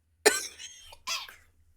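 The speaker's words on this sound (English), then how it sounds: "I just coughed. Started coughing." A person coughs after swallowing a gnat: a sharp burst of close coughing, a brief pause, then a second shorter cough fading out.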